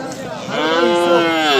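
Cattle at a livestock bazaar in Bokhtar: one cow gives a loud, close, drawn-out moo through most of the second, with faint crowd noise underneath.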